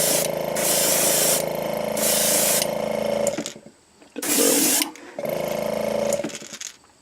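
Airbrush spray paint applied to a bass fishing lure in short, hissing bursts, several loud close blasts separated by brief silences.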